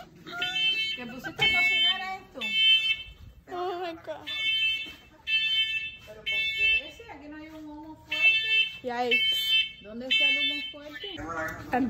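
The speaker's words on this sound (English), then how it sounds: "That alarm like just randomly went off." A smoke alarm beeps in a kitchen where food was smoking, repeating loud electronic bursts at a steady pace while a person talks between and over the beeps.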